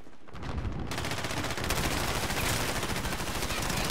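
Rapid automatic gunfire from Call of Duty: Modern Warfare, a dense, loud continuous burst of shots that starts after a brief quieter moment and keeps going to the end.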